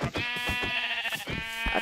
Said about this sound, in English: Oh wow, even more sheep.